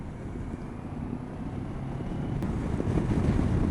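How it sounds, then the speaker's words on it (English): Steady wind rush buffets the microphone during a ride on a 2014 Kawasaki Versys parallel-twin motorcycle on a windy day, a continuous low roar that grows louder toward the end. "It's quite a windy day today,"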